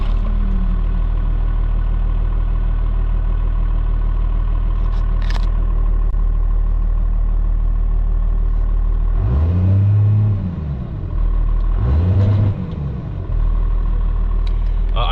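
Loud diesel engine of a 1995 Dodge Ram 2500 4x4 idling from a mostly cold start with a steady low rumble, then two rising-and-falling revs late on, close by and without talk.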